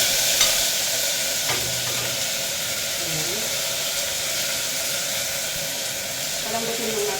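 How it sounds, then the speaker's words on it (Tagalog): Onion, ginger and tomato sauté in a hot pan with a steady, close sizzle and hiss that holds evenly throughout, broken only by a few faint stirring scrapes. "So gigisahin natin itong sibuyas, luya. Isama na natin yung kamatis kasi medyo matagal siyang mag-inaw."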